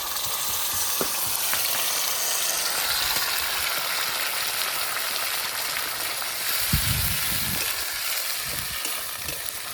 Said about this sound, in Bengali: পেঁয়াজগুলো আমার লাল লাল করে ভাজা হয়ে গেছে, এখন বাটা মশলাগুলো দিয়ে দেবো।